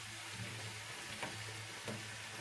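Radish and potatoes frying in a covered pan over lowered heat, a steady soft sizzle with faint bubbling and a low hum running throughout, no voices.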